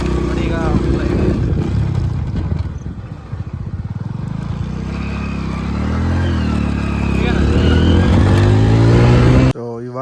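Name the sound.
Hero Honda Passion motorcycle riding on village road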